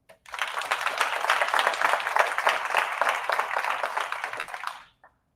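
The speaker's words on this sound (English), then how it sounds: "please give a round of applause" Audience applause at a pitch competition, a dense burst of many hands clapping that rises quickly, holds steady for about four and a half seconds, then fades out, with no talk over it.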